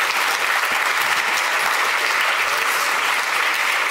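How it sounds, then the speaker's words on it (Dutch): Sustained, dense audience applause at a televised Dutch debate on the surveillance-law referendum, steady and loud throughout the whole stretch with no break. "mag ik een heel hartelijk applaus voor onze vierde betere stand vanavond"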